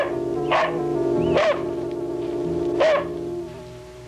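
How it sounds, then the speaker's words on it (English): A dog barks again and again, three loud sharp barks spaced over about four seconds, ringing out over a steady droning background. "she was distracted by the incessant barking of her dog."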